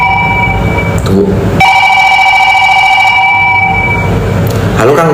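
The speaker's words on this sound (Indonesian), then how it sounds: "Kang Deddy telepon." A phone rings with an incoming video call, repeating loud electronic ringtone phrases that start and stop over several seconds amid background room noise.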